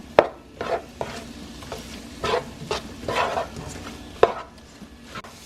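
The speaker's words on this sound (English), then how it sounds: "we're stirring this around" Shrimp and rice being stirred in a pan, with scraping strokes and sharp knocks of a spoon against the pan over a low sizzle, coming in irregular bursts.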